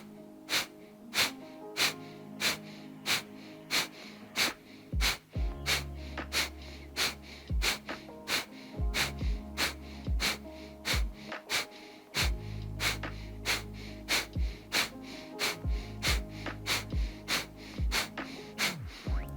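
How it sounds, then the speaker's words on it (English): Forceful, rhythmic exhales from a breathing exercise pulse out steadily, dozens of sharp bursts in quick succession with brief pauses between rounds, close and alone. "you should feel almost your whole body jolting with that exhale. It's that forceful."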